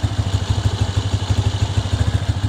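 Suzuki Spin motorcycle engine idling steadily up close, a regular low pulsing putter with a light mechanical clatter, heard alone without any talking.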